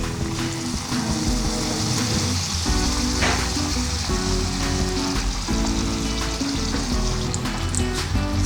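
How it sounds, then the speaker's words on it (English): Potato samosas frying in hot oil in a pan give a steady, loud, continuous sizzle and bubbling crackle that never lets up, with a low rumbling undertone and no talking. "Slowly we will add all the samosas to the oil."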